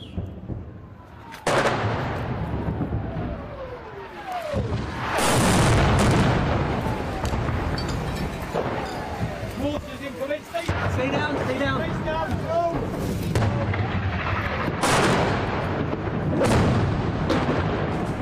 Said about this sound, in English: So these seem to be mortars, and they are coming in very close.